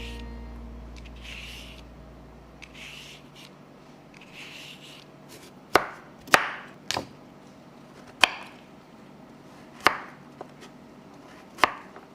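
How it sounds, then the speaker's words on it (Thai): Vegetables being chopped into small pieces on a cutting board for a stuffed omelette filling, six sharp knife strikes spaced unevenly after a quiet start, close and fairly loud with no talking. "ก็เอาผักมาหั่นเป็นชิ้นเล็ก"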